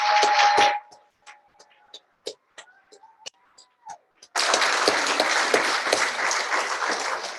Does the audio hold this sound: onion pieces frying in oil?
no